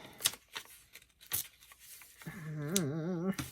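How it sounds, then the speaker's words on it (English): Heavy paper, printable 20-pound paper for collage, being torn by hand in a few short, sharp rips and crinkles, followed by a brief whining vocal sound near the end. "Let's see if I can tear around it."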